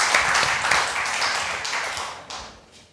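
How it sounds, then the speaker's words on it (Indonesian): A live studio audience at an Indonesian coffee-chat talk show claps in a brief burst of applause that swells at first and then fades over a few seconds. "Tepuk tangan lu dong, biar semangat."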